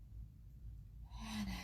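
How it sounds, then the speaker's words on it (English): A deep inhale during Kundalini yoga breathing, a single breath that is quiet at first and then draws in as a rushing airy intake close to the microphone. "Let's take a deep inhale."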